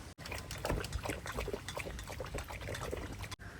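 Water pours for two dogs, an American Bully and a Beagle, in a continuous splashing trickle that runs close and steady for a few seconds with no talk.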